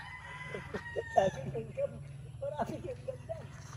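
Chicks and chickens in a backyard coop make soft, scattered peeps and clucks close by, under a steady low hum and someone talking.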